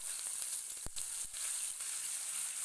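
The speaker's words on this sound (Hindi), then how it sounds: "अब इसको हम फ्राई करेंगे।" Garlic-ginger paste fries in hot oil with a bright, even hiss, punctuated by a couple of sharp spoon taps or pops; no voices.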